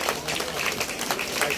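Applause from a crowd at a school Independence Day celebration, a dense steady patter of many hands clapping throughout, fairly even in loudness, with some voices mixed in.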